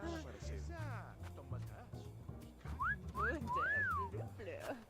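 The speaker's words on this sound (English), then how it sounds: "I'm gonna go ahead and give her a good old wolf whistle and see how she takes to that" A wolf whistle aimed at an alligator, heard as a few bright rising and falling pitched sweeps cutting through steady background noise and low rumble, with some voice-like sounds around them.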